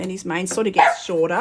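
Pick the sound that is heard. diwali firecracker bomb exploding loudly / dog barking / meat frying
dog barking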